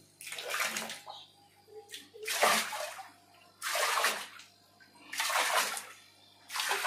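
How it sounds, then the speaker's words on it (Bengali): Salt water is poured in around the aeration of a fish tank, heard as several separate bursts of splashing, gurgling pours, each a second or so long with short pauses between, fairly close and clear. "এইবার দেখুন এই লবণ গোলা জলটা আমি ঠিক এই এরিয়েশনের আশেপাশে দিয়ে দিলে কি হবে"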